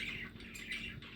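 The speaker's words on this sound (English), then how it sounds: "Here's a little pan of the birds in the back. They make a lot of noise." Pet birds kept in a back room squawk and chirp in harsh, overlapping bursts, a continuous noisy chatter heard from a little distance at modest volume.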